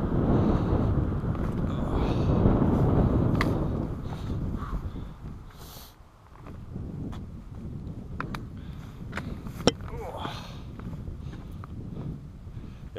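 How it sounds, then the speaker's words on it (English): Wind gusts across a rocky mountaintop on the Appalachian Trail, a steady roaring rush buffeting close to the microphone, easing briefly midway before picking up again, with faint scuffs and clicks of movement. "And we got wind."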